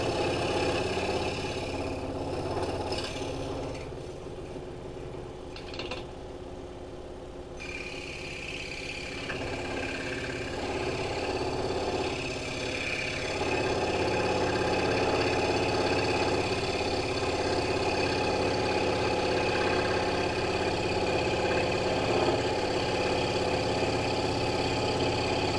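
A scroll saw cuts a wooden cat puzzle, its motor humming steadily with a rapid reciprocating buzz that shifts in tone as the blade works through the wood, continuous and fairly close.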